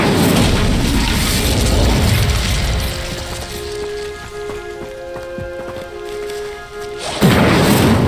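In Hogwarts Legacy, an Incendio fire spell goes off with a loud, crackling burst, settles into a quieter tonal hum with light ticks, then flares with a second loud blast.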